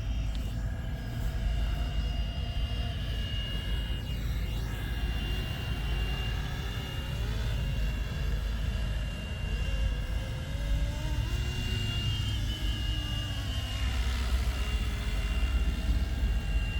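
A 3D-printed Flywing MD500 radio-controlled helicopter in flight, its steady high-pitched rotor and motor whine holding constant with slight pitch shifts as it moves, alone without talk.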